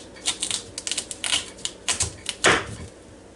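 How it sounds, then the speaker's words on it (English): A knife slicing raw sweet potatoes into fries, a series of quick, close clicks and taps on a cutting board, irregular and fairly sharp, ending with one heavier chop, no talking. "see if we can get to slicing them without cutting your finger off here."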